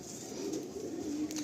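Malwai pigeon cooing up close, a steady low soft coo running throughout without pause.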